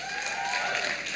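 Audience at a law school discussion clapping and cheering, a dense steady wash of applause filling the room throughout, moderately loud with no pauses.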